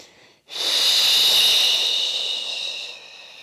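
A single long, audible breath hisses out close to the microphone during a Pilates roll up. It swells quickly, holds for about two seconds and then fades gradually.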